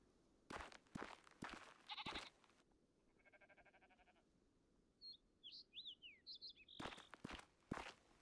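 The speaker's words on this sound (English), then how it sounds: "Okay, we've got sheep over on the right." Sheep bleating in the video game Rising World, heard as short wavering calls between footsteps on grass, with a few bird chirps and a rhythmic tapping sound, moderately close and without talk.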